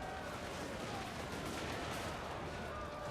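Rifle volleys crackle through a Total War: Warhammer 2 battle, a dense, continuous rumble of layered gunfire and clashing fighting noise with no clear gaps between shots.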